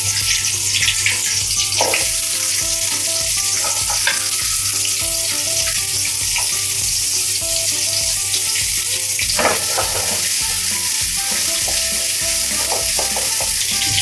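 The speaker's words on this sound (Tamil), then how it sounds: "எண்ணெய் காஞ்ச உடனே சின்ன வெங்காயம் போட்டுக்கலாம்." Small onions drop into hot oil in a kadai for a pirandai kuzhambu, setting off a loud, dense, continuous sizzle with occasional clinks and crackles, close up with no voices.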